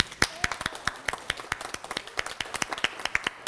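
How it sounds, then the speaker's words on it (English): Small audience at a writing class clapping for a student: a scattered patter of individual, close claps from a handful of people, irregular and fairly quiet. "Can we give her a round of applause?"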